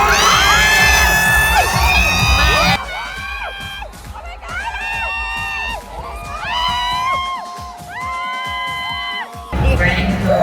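A loud crowd at the Miss Universe 2020 pageant cheering for Thailand, with high shrill shouts and whoops rising in repeated bursts over a dense roar, broken by short quieter gaps.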